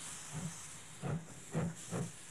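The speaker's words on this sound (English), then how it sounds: "the M-class steam engine hauled 130 rail enthusiasts through the lush country of" Faint, steady steam hiss from an M-class steam locomotive in northwest Tasmania, with three or four soft puffing chuffs at a slow, even rhythm, distant and quiet.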